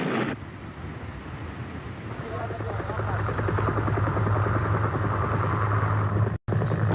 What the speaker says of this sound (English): Mi-8 helicopters have been exported to at least 40 countries